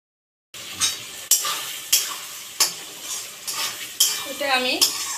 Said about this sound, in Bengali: একটু ভালো করে নেড়ে চেড়ে নেব।